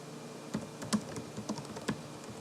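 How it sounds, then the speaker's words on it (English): Typing on a computer keyboard: a few soft, close key clicks at irregular intervals, with a couple of slightly louder taps, in a quiet room. "Okay, so I typed it in."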